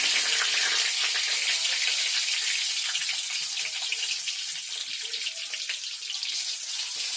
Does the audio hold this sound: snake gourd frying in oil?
yes